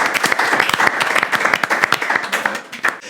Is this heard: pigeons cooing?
no